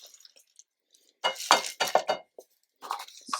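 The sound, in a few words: washed lentils being added to a cooking pot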